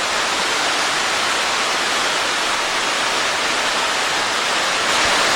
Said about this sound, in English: a little bit of perspective with the waterfall behind me back there